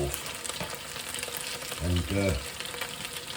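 Jarred curry paste frying in a pan, a close, steady crackling sizzle with scraping stirs, plus a brief low tonal hum in the middle.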